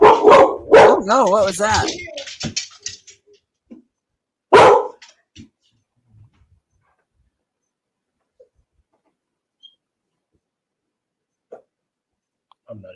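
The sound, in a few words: dog barking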